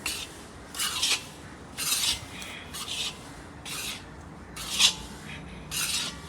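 Chilled, firmed-up khoa is worked together with rice flour for sweet pinnis, giving soft rhythmic rasping and scraping strokes, about seven short bursts in a quiet room.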